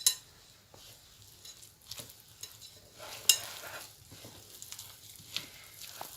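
Flour, butter and yogurt being stirred into a soft dough for crispy pastries, heard as quiet repeated scraping and squelching strokes with a few sharper taps, no talk.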